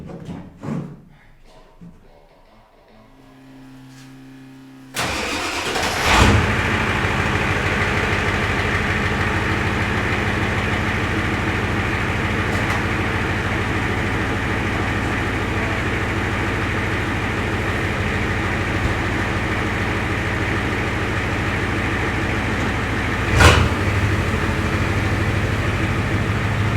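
A truck engine drones steadily at a low pitch while driving, loud and continuous after a quieter start with some shuffling. A brief bump breaks the hum near the end.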